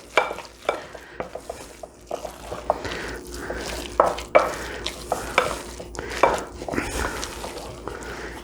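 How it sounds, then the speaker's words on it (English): Eggplant rollatini filling stirred in a bowl with a broken spatula, giving repeated close scraping and squelching strokes in an uneven rhythm, with no talk. "we want to get that nice and mixed together"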